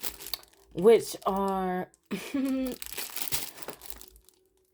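Cellophane bags crinkle and rustle as they are unpacked from an Amazon delivery, the crisp plastic crackle coming in bursts close by while someone talks excitedly over it.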